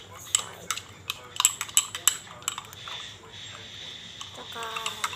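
A utensil clinks and scrapes against a bowl or dish while food is mixed, a series of sharp close taps and rattles, with a person talking intermittently.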